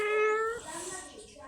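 A Persian cat gives a single drawn-out, close meow with a clear tonal wail that fades, while a person talks softly around it.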